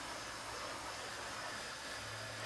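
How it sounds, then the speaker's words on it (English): A steam station iron hisses steadily while pressing Australian DPCU camouflage trousers, a constant broad close-up rush of steam with no breaks. "Using a steam station, you really don't have to use a lot of water."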